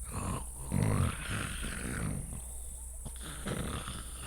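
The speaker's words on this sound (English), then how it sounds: "that snoring in the background, it's a Gorak" A mythical beast called a Gorak snores in the background, a low rumbling, growl-like breath that swells and fades over a steady hum, fairly close and with no talking.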